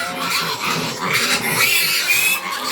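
Hungry pet pigs squeal and grunt loudly at close range in overlapping, shrill bursts that continue throughout.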